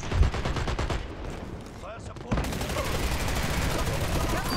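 Mounted gun firing in the online shooter Dirty Bomb, a dense rapid burst that cuts out briefly then resumes as sustained loud fire, with voices talking over it.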